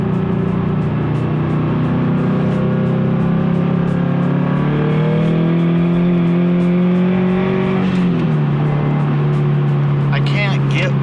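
A turbocharged Subaru BRZ engine revs hard on a freeway, its droning tone climbing steadily under wind and road roar before easing near the end, with someone talking over it.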